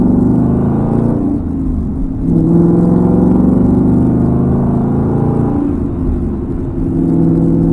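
A Ford Mustang with a very loud exhaust drones loudly and steadily from close by, its deep exhaust note rising and dipping as it accelerates through the gears, with no talking.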